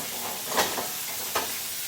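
Steak sears in a hot pan, fat-edged sides pressed down, giving a steady close sizzle broken by two short louder hisses.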